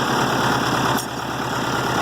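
A tractor engine, started with the key at an idle throttle, runs in a steady, close, loud rumble with an even low throb and a brief dip partway through; no voices.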